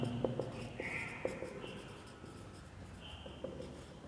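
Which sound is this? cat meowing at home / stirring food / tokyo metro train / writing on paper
writing on paper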